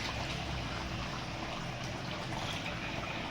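Water poured into chicken kasa (chicken curry) cooking in a village kitchen, a steady trickling and splashing that runs continuously with no speech.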